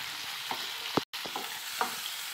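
Chopped tomatoes are stirred into a mustard-paste chicken curry in a pan: a soft, steady sizzle broken by a few spoon scrapes and taps, with a brief dropout to silence partway through.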